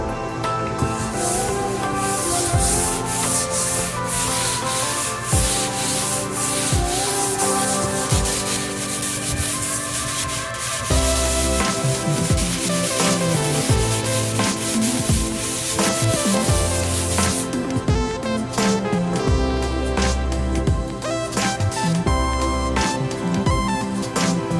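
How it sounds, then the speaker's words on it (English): Steady sanding of a surface being prepared for chalkboard paint, a continuous scratchy rubbing that carries on loud and unbroken for the whole stretch, with no voices. "Well, I think I can start sanding now,"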